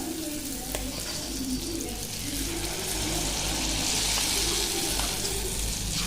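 Gulgule batter dropped in small spoonfuls into hot oil in a kadai, frying with a steady, moderately loud bubbling sizzle that rises toward the end, alone without talk.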